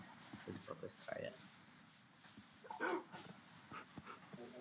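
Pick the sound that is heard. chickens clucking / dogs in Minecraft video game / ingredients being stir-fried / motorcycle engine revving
dogs in Minecraft video game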